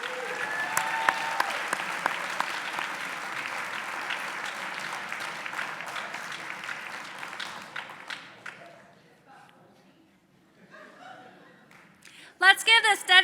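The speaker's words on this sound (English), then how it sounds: "Let's give this dedicated group another round of applause" An audience applauds honorees at an awards ceremony, dense steady clapping for about eight seconds that thins and fades, followed by a pause and a brief loud burst of sound at the end.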